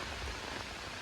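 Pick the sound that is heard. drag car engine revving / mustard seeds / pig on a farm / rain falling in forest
rain falling in forest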